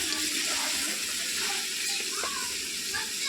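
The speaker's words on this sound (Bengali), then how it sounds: "এবার একটু জল আমি দিয়ে দিলাম" Water is poured into a pan of chicken curry with spiced masala and Kashmiri chili powder, a soft continuous splashing and gurgle with faint sizzling beneath, moderately quiet.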